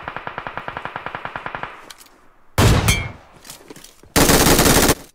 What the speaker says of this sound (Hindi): अभी हमारा पट से हेडशॉट देखो ज़रा